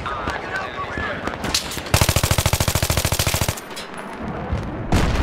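Rapid machine gun burst in Battlefield 3 multiplayer Conquest, a loud, evenly spaced string of about fifteen shots lasting roughly a second and a half, set amid other battle noise and chatter.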